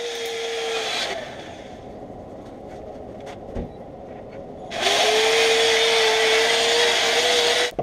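A power drill sanding a wooden bowl whines steadily at high speed, pauses for a few seconds of quieter handling noise, then starts up again loudly.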